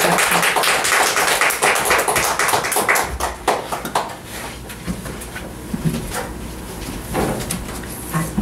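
A church congregation applauds to welcome a missionary to the front, a dense burst of clapping that is loud at first, then thins to scattered claps before fading.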